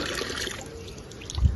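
Water trickles steadily from a tap left open on a rooftop after watering plants, a faint, continuous running sound close by, with a soft bump near the end; no voices.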